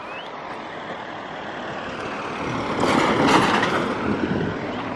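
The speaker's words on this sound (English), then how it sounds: "I have to let the car pass first before I" A vehicle passes on the road near an old railway bridge at Imbil, a broad rumble that swells to a peak midway and then eases off, heard alone without talk.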